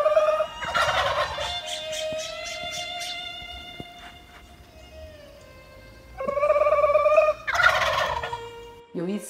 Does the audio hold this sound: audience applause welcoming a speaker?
no